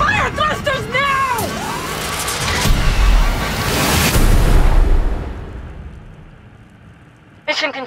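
Spacecraft thrusters fire with a deep roaring rumble that swells and then fades away, layered under urgent voices and sweeping trailer effects, ending on a sharp burst.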